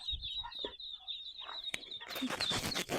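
A Muscovy duck mother with her ducklings: soft clucking calls and a high continuous peeping from the young birds, close by, ending in a denser burst of chirping and rustle.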